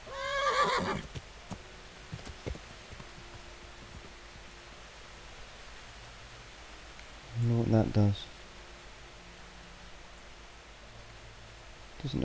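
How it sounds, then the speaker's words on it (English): A horse whinnies in the medieval role-playing game Kingdom Come: Deliverance, one loud neigh opening the scene and a second, shorter burst about seven seconds later, over quiet game ambience and faint thuds. "I can sneak up here and make this horse bolt."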